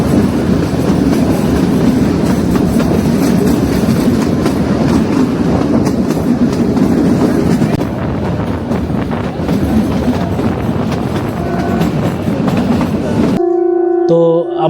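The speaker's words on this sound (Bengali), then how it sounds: "আমরা এই টয় ট্রেনের উপরে বসে রয়েছি কালকা থেকে সিমলা যাওয়ার পথে" Heard from on board, the narrow-gauge Kalka–Shimla toy train in Himachal Pradesh makes a loud, continuous rumble and clatter of wheels on track. The noise cuts off near the end into a brief tonal sound.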